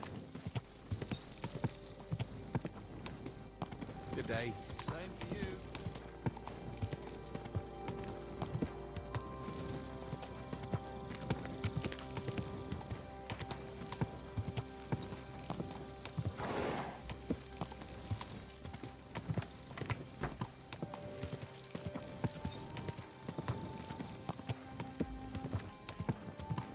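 Horse hooves clip-clopping steadily on a road in Kingdom Come Deliverance 2, a continuous rhythmic trot close by that carries on under brief spoken greetings.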